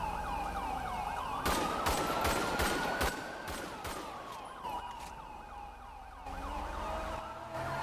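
Ambulance siren in GTA V on the NoPixel roleplay server, a loud wailing siren with a rapid yelp pattern and bursts of gunfire over it.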